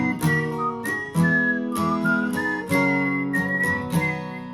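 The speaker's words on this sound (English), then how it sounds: "you can whistle if you want" A bright whistled rendition of a 1960s tune, carried over rhythmic acoustic guitar strums in G major with a capo on the fourth fret, steady and close.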